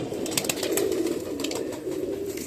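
Pigeons coo softly nearby in the evening outdoors, a low murmuring call that keeps going under faint scattered background chirps, with no voices present.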